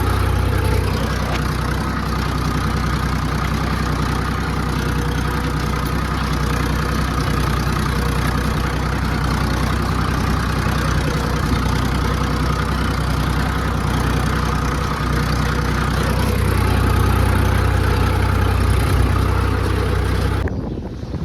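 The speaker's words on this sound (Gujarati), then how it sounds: "તો મિત્રો આપણે ટ્રેક્ટર હાંકવા આવી ગયા છે।" A tractor engine drones steadily while being driven on a farm, loud and close with a constant low hum and slight knocking throughout, cutting off abruptly at the end.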